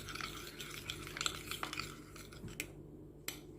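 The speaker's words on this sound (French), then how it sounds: "On va bien mélanger pour que ça se fait." Egg and onion mixture for homemade burgers stirred briskly in a bowl, a continuous scraping and swishing rhythm with light utensil clicks, close and fairly soft.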